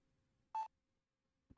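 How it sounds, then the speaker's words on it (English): Two short electronic beeps from the Phoenix Wright video game sound alone against near silence, spaced about a second apart. Each is a brief, clean tone. "Beep. Beep. Beep."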